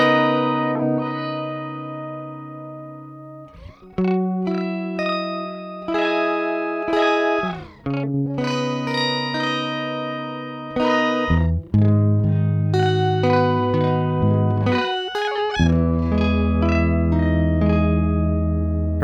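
Electric guitar run through Microcosm and Chroma Console effects pedals, sustained layered chords and plucked notes with shimmering modulation and echo, including a brief downward pitch dip, played alone and loud throughout.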